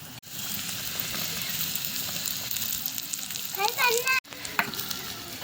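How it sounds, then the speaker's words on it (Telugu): Potatoes and carrots frying in oil, a loud continuous sizzle close by, with a voice briefly talking over it near the end and a couple of abrupt cuts. "ఫ్రై అవుతున్నాయి"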